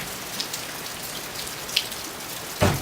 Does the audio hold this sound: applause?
no